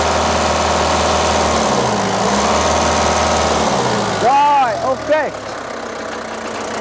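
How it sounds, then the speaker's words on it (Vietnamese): Japanese used forklift engine idling steadily, then revved with rising and falling pitch sweeps while someone briefly speaks nearby. "Và đặc biệt là khi tôi rồ ga thì nó không có khói nha các bạn nhá."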